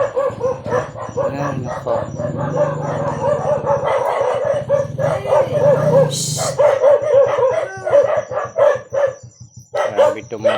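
Several dogs bark and yip excitedly outdoors, loud and close, in overlapping bursts, with a rooster crowing and a motorbike passing, while a person talks now and then.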